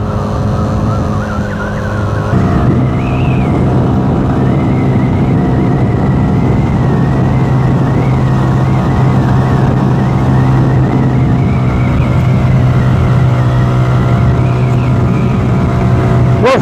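A Benelli 180S motorcycle engine drones continuously while riding through second and third gear, revving up after a brief dip and holding a loud, steady roar with rushing air noise.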